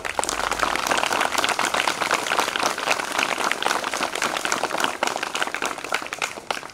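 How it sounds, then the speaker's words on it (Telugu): Government school students at Masaipet applaud together in a dense, sustained burst of clapping that holds steady for several seconds, loud and crowded without pause. "చప్పట్లు కొడతారు."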